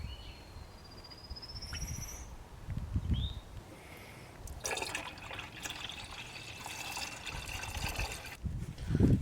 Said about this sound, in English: So let's go ahead and get started pouring that in there.